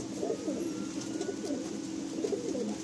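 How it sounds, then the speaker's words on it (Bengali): Madrasi pigeons cooing steadily in a loft, several soft overlapping coos repeating in low, throaty pulses at close range with no talking. "আপনারা এই পায়রাটা দেখুন"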